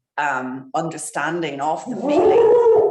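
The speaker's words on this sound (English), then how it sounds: "oops, that's my dog" A dog in the room lets out a short, wavering howl that slides into whimpering, close by and partly under a person's ongoing speech.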